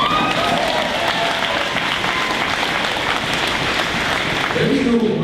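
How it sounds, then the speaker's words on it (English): A graduation ceremony crowd gives a graduating student steady, full applause for about five seconds, with a voice starting to speak over the clapping at the very end. "we got applause for him"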